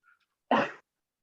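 A single sharp sneeze from a person with a cold during a meeting, close and loud, after a faint brief sound.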